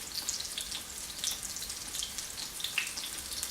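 Steady crackling sizzle of pea and ricotta fritters frying in hot oil, with small pops and spits throughout, close by and without any talking.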